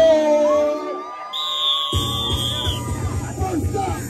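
A birthday-party crowd at a hip hop gathering erupts into loud cheering, whoops and shouting that burst in suddenly after a brief tonal musical intro and keep going, dense and close.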